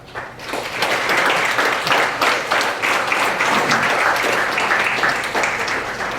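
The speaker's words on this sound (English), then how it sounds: "I'd ask you, because we're going to be applauding for you soon, to applaud for all those people." A graduation audience at the 2015 UW-Richland Graduation & Awards Night applauds in a steady, dense wash of clapping. It swells quickly and holds at a full, even level throughout, with no talk over it.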